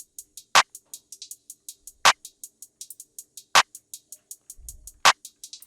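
Crisp hi-hat drum sample hits in a steady rapid pattern within a trap-style drum loop, with sharp bright ticks between louder accented clap-like hits roughly every one and a half seconds and a brief low thump near the end.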